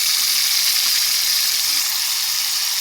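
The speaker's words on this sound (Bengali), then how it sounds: "তো প্রথমেই আমি চিংড়ি মাছগুলো দিয়ে দেবো কড়াইয়ে।" Prawns frying in a wok give a loud, steady, dense sizzle throughout, with a continuous hiss and no talking.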